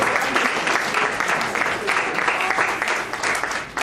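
Sustained, dense audience applause after a keynote speech at an education and maritime stakeholders lecture, steady and loud throughout with crowd murmur mixed in.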